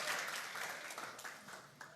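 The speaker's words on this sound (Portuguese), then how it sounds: "Vamos aplaudir ao Senhor?" Applause from a crowd: steady, dense clapping that fills the whole moment and fades slightly toward the end.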